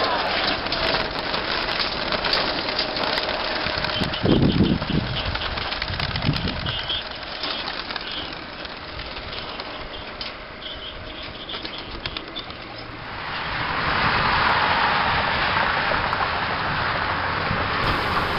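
A second group of racing pigeons is released for road training under an overcast sky, a brief burst of flapping wings sounding amid steady rain-like hiss and outdoor noise.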